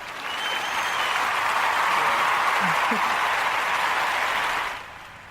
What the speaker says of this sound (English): deserves a huge round of applause for her